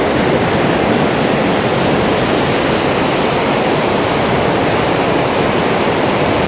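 Mountain river rushing near Gangi village in Uttarakhand: a loud, steady, unbroken roar of whitewater close by, with no voices over it.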